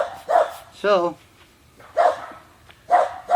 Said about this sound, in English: The neighbor dogs are out now.